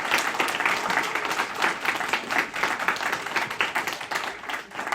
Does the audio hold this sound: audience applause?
yes